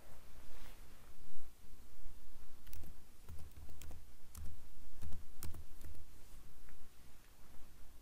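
Fingers type on a computer keyboard, producing a short run of crisp, irregular key clicks and taps close by, with a few firmer strikes mixed in over quiet room hiss.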